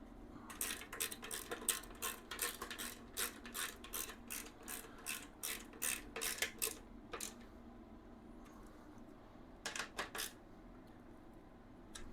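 A ratchet tightens front-end bolts on a Honda Shadow Sabre 1100 motorcycle, giving quick, close bursts of rapid clicking over the first seven seconds, then a quieter pause and a final short run of clicks near the end.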